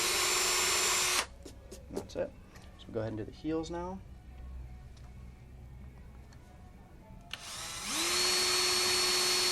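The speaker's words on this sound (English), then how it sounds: "You want to make sure you're drilling right up, kind of perpendicular to the boot." Power drill boring holes into a figure skating boot, two loud sustained whirring bursts at the start and end, with someone talking in between.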